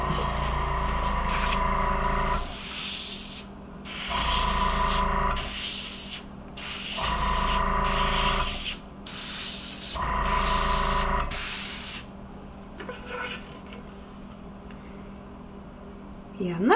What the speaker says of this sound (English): And then I'm going straight down with my airbrush.